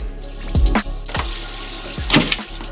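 Splashing, gushing water in short bursts as an RV tank is dumped, fairly close, with a bump and a brief rush of flow near the end.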